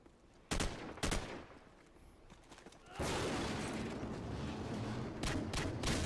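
Rapid automatic gunfire in Call of Duty 4: Modern Warfare: a few sharp, separate shots at first, then a loud, dense burst of continuous fire close to the listener, with no talking.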